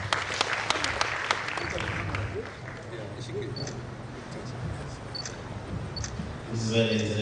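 An audience at a university prize-giving ceremony breaks into applause and cheering, a dense patter of clapping that swells at the start, eases slightly and then carries on steadily.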